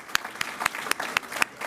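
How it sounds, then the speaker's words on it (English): An audience claps at a partnership event between a health system and a university nursing school, with regular, crisp handclaps repeating steadily at close range over a light crowd murmur. "Let's give Dr. Anthony Houston and the entire CHI St. Joseph Health team another round of applause"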